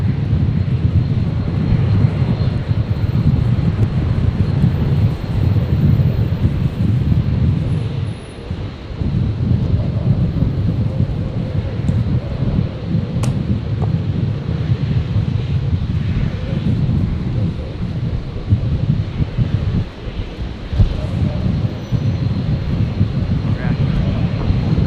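Airplane at Brisbane International Airport, a steady loud broadband jet engine roar with wind noise over the microphone, sustained throughout under occasional talk.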